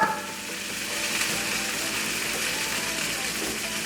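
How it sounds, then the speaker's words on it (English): Loud, steady sizzling of vegan French toast frying in a hot pan, a dense crackling hiss that continues without pause. "Y'all heard that sizzle?"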